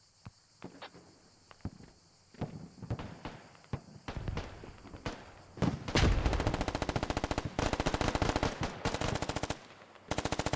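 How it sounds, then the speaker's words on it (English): Rapid bursts of machine-gun fire crackle through a Squad military shooter battle in Poland's Suwalki Gap, starting as scattered shots and footsteps, then building into loud, sustained automatic volleys that rattle almost without pause. "Mystery Derp dodges machine gun fire."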